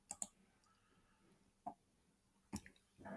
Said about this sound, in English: click the filters icon here